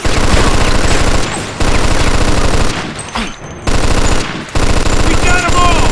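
Automatic gunfire from the video game Mafia rattles out in loud, sustained bursts, with two brief lulls that break up the continuous shooting.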